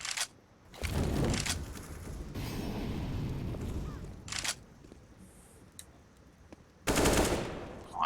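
Counter-Strike gunfire from an AK-47 comes as several separate bursts of rapid shots, mid-loud and close, with quieter game ambience between them and a final sharp burst near the end.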